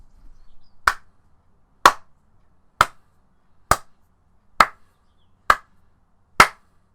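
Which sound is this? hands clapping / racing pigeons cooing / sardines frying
hands clapping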